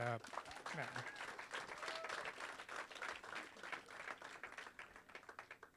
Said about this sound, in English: One more time, a round of applause for all the participants.